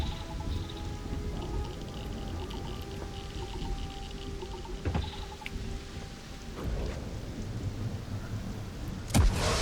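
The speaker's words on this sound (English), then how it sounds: "Freezing liquid thunderstorm" A freezing liquid thunderstorm in the video game Starfield: steady pouring rain with rumbling thunder, a few sharp cracks and a loud strike near the end, all without speech.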